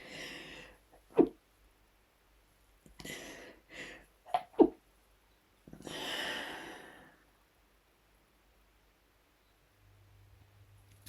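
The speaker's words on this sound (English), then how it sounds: "I'm going to sneeze, sorry." Several sharp breathy sniffs and gasps build up, followed by a long hissing exhale like a sneeze, then quiet.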